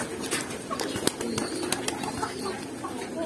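Baku pigeons in a loft coo softly and steadily, with several birds overlapping in a low, continuous murmur, broken by occasional sharp clicks and brief wing flutters close by.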